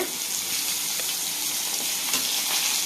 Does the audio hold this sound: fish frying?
yes